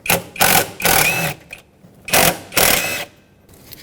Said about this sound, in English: Use a 10mm socket and remove the two bolts holding this intake piece on